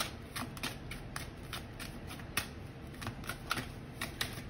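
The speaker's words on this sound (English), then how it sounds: "So I'm just getting all the cards out." A tarot card deck being handled and shuffled, a quick run of crisp card flicks and taps close by over a faint background hiss, no voices.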